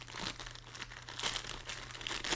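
Blade slicing open the flap of a mailed package holding a plastic Rider tarot deck: close, continuous crinkling and tearing of packaging with irregular rustling bursts, no talking.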